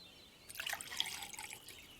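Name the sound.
tea being poured into a cup, cartoon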